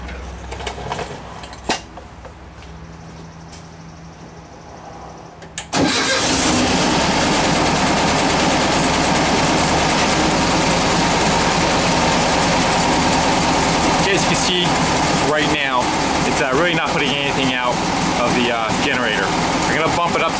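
An air-cooled Volkswagen engine is checked while troubleshooting its charging system. After a quiet stretch it cranks and catches abruptly, then settles into a loud, steady, rumbling idle close by that runs to the end.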